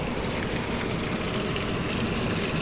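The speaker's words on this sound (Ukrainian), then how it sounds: "Ох і дощ." Steady rain falls outdoors on a garden where hydrangeas and newly planted trees stand, a dense continuous hiss and patter that stays even and fairly loud throughout, with no voices.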